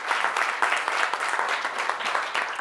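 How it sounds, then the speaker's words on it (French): A small audience in a therapy training session applauds a volunteer, with dense, steady clapping heard up close and alone for a few seconds. "Mets d'applaudissements de notre volontaire."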